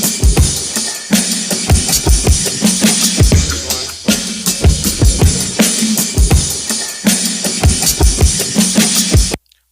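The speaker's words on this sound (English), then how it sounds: "So by chopping the sample and playing it the way I like, it's gonna sound like this." Chopped drum loop sample played on an MPC hardware sampler, two chops triggered in a steady, punchy beat of thumping kicks and crisp snares and hats, loud and continuous before cutting off abruptly at the end.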